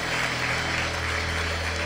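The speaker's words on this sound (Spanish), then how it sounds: "Dale un aplauso al Señor esta noche." Congregation clapping for the Lord during an evening church service, a steady dense wash of applause filling the whole stretch with an organ or keyboard chord sustained underneath.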